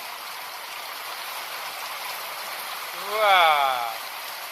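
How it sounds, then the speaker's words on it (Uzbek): Heavy rain pours steadily in an outdoor street, a dense continuous wash of hiss and splatter, with a man briefly exclaiming over it near the end. "Tez yog'yapti o'zi mana."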